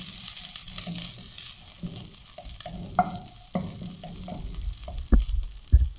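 Shredded cabbage stir-fried in a hot pan for Singapore-style rice, steady sizzling with spatula scrapes and knocks growing louder toward the end, no talking.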